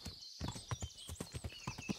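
A horse in Kingdom Come Deliverance clip-clops along at a steady walk, hoofbeats close and rhythmic over a soft background with faint high ambient tones.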